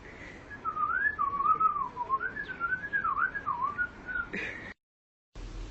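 A person whistles a wandering, warbling tune up close, pitch sliding up and down continuously for several seconds before cutting to sudden silence.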